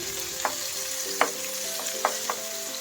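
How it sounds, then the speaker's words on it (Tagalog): Pressed fresh tomato for a sweet and sour fish sauce frying in a pan, a steady close sizzle with a few sharp clinks of a utensil stirring against the pan, no voices. "ilagay na natin ang ating pressed na tomato"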